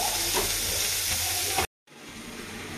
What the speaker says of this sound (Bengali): এবার নাড়াচাড়া করে নেবো। এটা হতে থাক